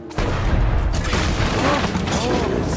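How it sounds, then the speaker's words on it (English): A cannon fires in Shadow Tactics at Osaka Castle, a sudden loud boom followed by a sustained rumbling blast as a voice talks over it. "That cannon. Perhaps I can make use of it."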